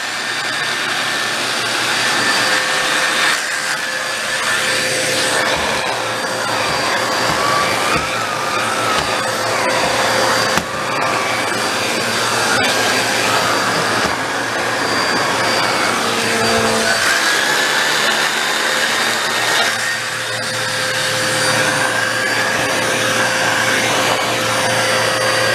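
A Black & Decker BDASV104 handheld vacuum with an attachment runs loud and close, a constant high whining motor with a rushing airflow tone that shifts slightly as it moves.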